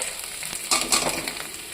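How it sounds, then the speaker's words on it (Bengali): Turmeric and cumin powder frying in oil in a pan as the spice base for a potato curry, with a steady close sizzle and brief stirring scrapes, no talk. "এবার একটু ভালো করে ভাজা মতন করে নিচ্ছি।"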